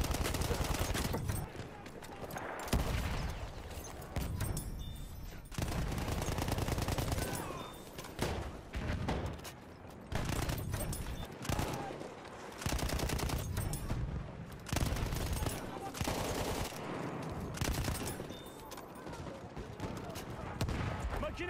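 Machine gun fire in a video game: repeated loud bursts of rapid automatic fire separated by short gaps, with voices talking in between.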